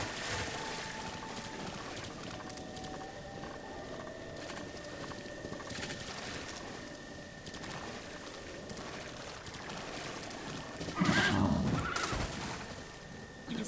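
Horses whinny in Zelda: Breath of the Wild over a steady bed of game ambience, with a louder, sharper neigh bursting out near the end.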